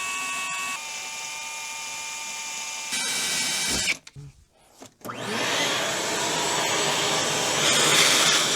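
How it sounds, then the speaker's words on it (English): A power drill bores pilot holes for a large-format camera lens board, whining at high speed in several bursts, stopping briefly in the middle before spinning up again, loud and close. "Drill some pilot holes."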